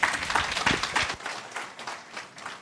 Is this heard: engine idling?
no